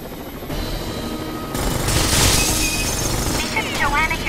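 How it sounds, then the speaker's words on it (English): Combat helicopter in the Rainbow Six Vegas 2 video game, a steady loud rotor roar running throughout, mixed with bursts of gunfire and shouting voices. "They have a combat chopper here!"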